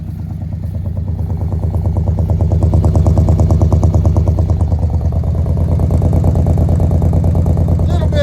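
A 1969 C10 pickup truck engine, long left sitting, idles steadily with a low, lumpy rumble and rhythmic clatter, running continuously and close by.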